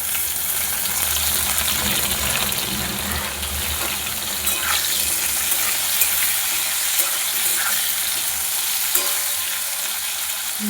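Chopped onion fries with browned potato pieces in a pan, a continuous close sizzle with occasional stirring scrapes and small pops, no voices.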